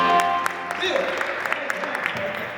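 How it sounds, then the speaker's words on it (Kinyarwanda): A congregation gives scattered applause for a group of singers at a church gathering. The claps are moderately loud and uneven, with a voice and some tonal sound mixed in underneath. "Duha abaririmbyi amashyi menshi."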